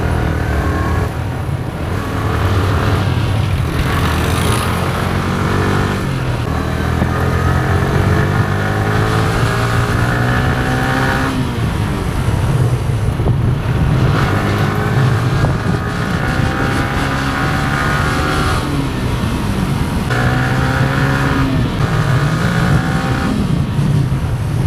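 A 2025 Yamaha R15 motorcycle roars steadily on a morning ride. The engine note rises and falls loud and close as the bike shifts through the gears, with heavy wind rush throughout.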